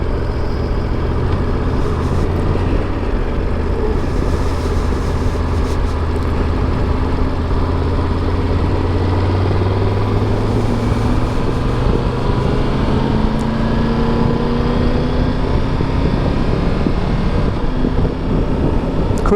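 A Triumph Tiger 1200 GT Pro motorcycle rides along with a continuous engine drone that rises and steps through gears, heavily buffeted by loud wind rush the whole time.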